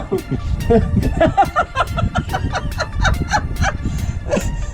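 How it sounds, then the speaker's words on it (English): A loose chicken clucks in a quick series of close, squawking calls, with people chattering and chuckling around it. "My chicken got loose."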